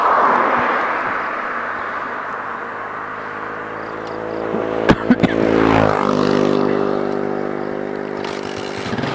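A push-started motor engine catches and runs, a rough rumbling idle that swells with a brief rev and a few sharp clacks midway, then settles back to a steady running drone; no talking over it.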